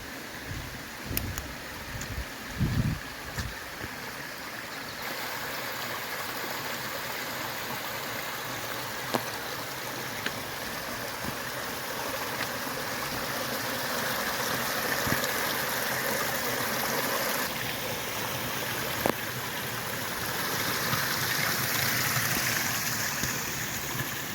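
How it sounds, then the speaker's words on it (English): Small ribbons of waterfall gurgle over bedrock on both sides of a forest trail at Greylock Reservation, a steady rushing, splashing flow that continues without pause, fairly close and even. "ribbons of waterfalls just gurgling their way down on both sides of this trail"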